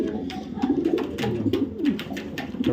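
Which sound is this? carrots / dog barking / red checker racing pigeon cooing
red checker racing pigeon cooing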